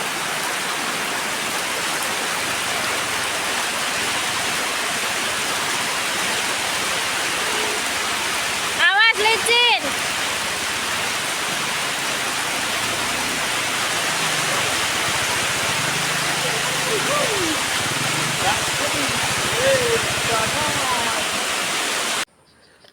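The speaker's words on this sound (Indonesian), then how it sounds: "udah mulai kelihatan ya sungai, aliran air di belakang rumah itu udah penuh" A full river rushes steadily behind a house in a transmigration settlement at Saluandeang, Mamuju Tengah, West Sulawesi, making a continuous broadband roar of flowing water throughout, with a few faint higher calls briefly over it.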